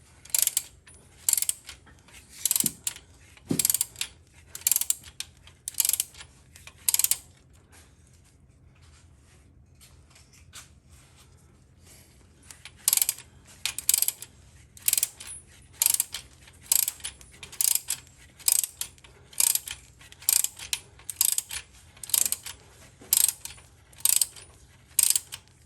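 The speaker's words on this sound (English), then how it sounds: "we're gonna put this in here with this wrench" Ratcheting wrench clicking in quick repeated bursts while tightening a hydraulic tube fitting on a Ford 641 WorkMaster tractor, with a quiet pause midway before the ratchet strokes resume, close and crisp.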